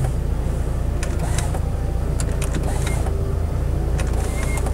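The window regulator of a 2021 UAZ Patriot is worked inside the cabin, giving a steady mechanical whir with scattered sharp clicks and knocks, close and alone.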